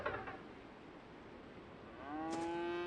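A cow mooing in the farm horror video game Dreadfields, one drawn-out low moo rising near the end over a faint hissy background, with a shorter call at the start.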